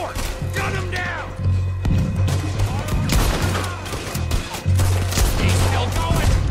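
A Red Dead Redemption 2 gang battle at a fort brings dense, rapid gunfire. Repeated loud shots and thuds overlap in sustained volleys, with shouting voices mixed in.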